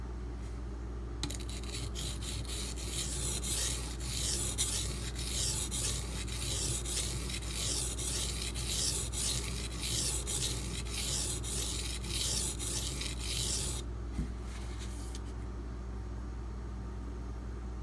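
A D2 steel knife sharpened on a Brous Bionic XL sharpener, a steady rhythmic rasping of repeated abrasive strokes for most of the stretch, close and fairly quiet, no talking.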